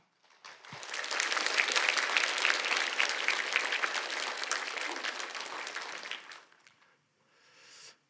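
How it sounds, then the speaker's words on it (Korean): A congregation at a special prayer meeting claps to welcome a guest pastor, swelling quickly into a full, steady round of applause that lasts several seconds and then fades out. "따뜻한 환영의 박수로 맞이하겠습니다"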